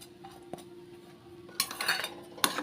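Coriander being stirred into a potato filling for aloo paratha, with scattered light clinks of a utensil against the pan and a louder burst of scraping and stirring near the end.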